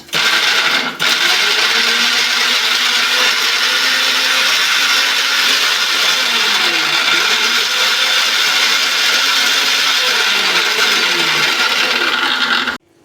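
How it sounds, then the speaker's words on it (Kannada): Kitchen mixer grinder blending tomato, a loud steady whirring motor roar that starts abruptly, runs continuously for many seconds with slight pitch shifts, then cuts off. "ಟೊಮೆಟೊನು ಹಾಕಿ ಮತ್ತೊಮ್ಮೆ ಮಿಕ್ಸಿ ಮಾಡ್ಕೊತೀನಿ"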